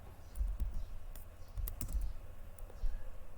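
Quiet, irregular clicks of typing on a computer keyboard, a few quick keystrokes in short bursts, close and faint with no voice over them.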